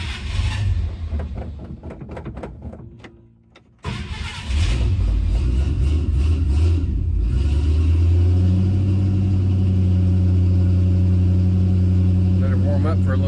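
An AMC Rambler wagon's 287 V8 cranks with rapid stuttering chugs inside a shop, pauses, then catches and settles into a loud, steady low rumbling idle that continues to the end.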